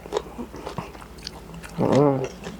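A mouthful of shellfish is bitten and chewed close to the mic, with several short crunches and then a louder, longer burst of crunching.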